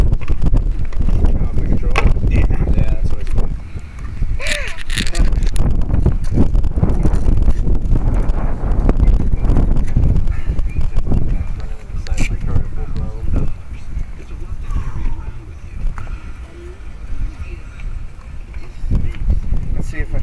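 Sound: gust of wind

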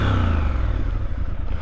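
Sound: Triumph Scrambler 1200XE motorcycle engine revving

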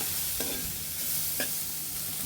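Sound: spice paste frying and being stirred in a pan

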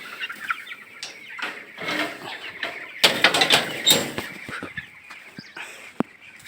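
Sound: poultry chickens clucking

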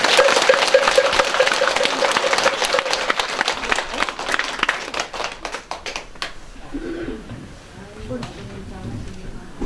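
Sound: audience applause

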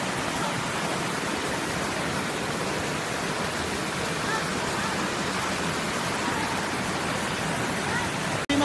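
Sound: Gayas Waterfalls rushing water

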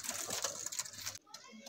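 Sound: pigeons cooing

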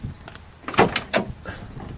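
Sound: opening steel door of 1970 Chevrolet Chevelle SS convertible

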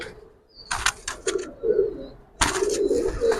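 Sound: Giribaz pigeons cooing

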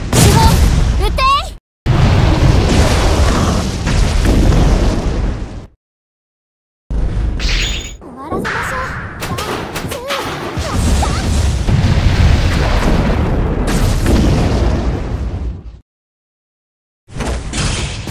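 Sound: gunfire and explosions in video game Abyss Horizon

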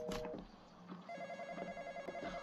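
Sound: telephone ringing in a video game

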